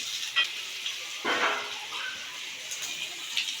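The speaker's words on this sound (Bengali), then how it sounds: "ধুয়ে রাখা আলু ছেড়ে দিলাম আলু দিয়ে আলুটা ভেজে নেব ভালো করে" Potatoes sizzle and fry in a pan with cumin seeds, turmeric and salt, with a few scraping stirs cutting through the steady hiss; no talking.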